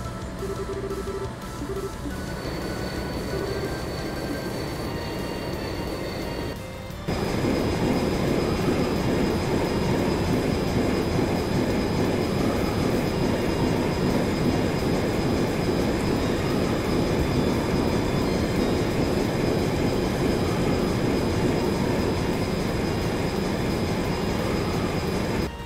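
An airship in Trails in the Sky SC accelerating: a steady mechanical drone that abruptly surges louder and denser partway through, then holds as a sustained roaring hum with a high whine over it, no talking.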